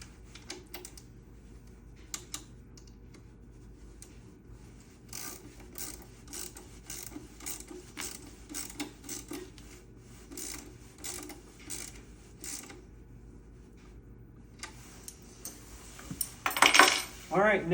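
Tightening bolts on an aluminum Riverdance mini-jig, faint metallic ratcheting clicks in quick bursts with occasional clinks, growing louder with a clatter near the end.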